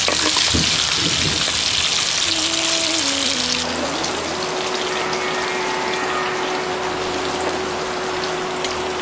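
Boiled eggs fry in hot oil with turmeric and salt, a loud steady sizzle with bubbling and watery crackle throughout, a brief rising tone near the start, with no talking.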